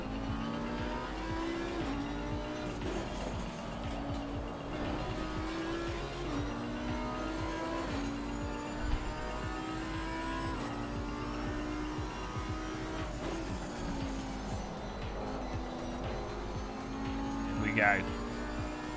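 Audi race car engine in Assetto Corsa Competizione roaring steadily throughout, pitch stepping up and down through gear changes, with brief tire squeal near the end, under music and voices.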